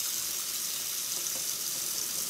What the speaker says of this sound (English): I just need some hot water going, but I hate to have water going when y'all are watching